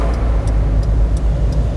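A car's engine hums low and steady from inside the cabin while the accelerator is pressed, joined by a soft, regular ticking, like a turn signal, repeating about every third of a second.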